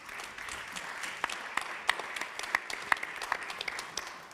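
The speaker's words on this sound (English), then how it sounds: "Big applause for the founder, Jarl Vintnes." An audience at a startup competition final claps steadily, a dense patter of many hands with a few sharper claps standing out, no voices.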